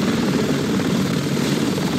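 Helicopter in the video game Resident Evil 6, a steady broadband rotor and engine roar that holds at a constant loud level throughout, with no talk.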